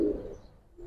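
A pigeon inside a cage gives a short coo at the outset, then quiet follows before a faint second low note near the end.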